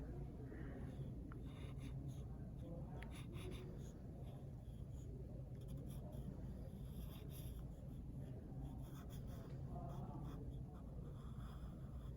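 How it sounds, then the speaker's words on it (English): Pencil drawing on paper, box by box, a faint continuous scratching and scribbling with short strokes, quiet and close, with no speech. "So I'm gonna start drawing that, box by box."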